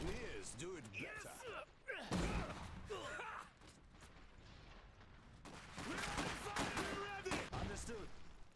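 Gunfire in the real-time strategy game Iron Harvest, with repeated sharp shots and heavy thuds mixed with battle noise. Voiced unit callouts and other game sounds are heard between the bursts.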